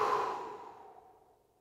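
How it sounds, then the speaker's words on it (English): A single slow exhale during a breathwork session, a soft, close, breathy sigh that starts strong and fades gradually into silence. "And exhale."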